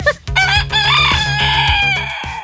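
A pet rooster named Philippe, recovering from an illness, crows once loud and close, one long drawn-out call.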